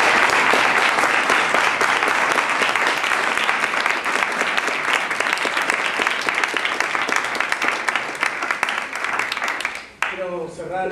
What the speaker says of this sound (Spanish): así que damos un aplauso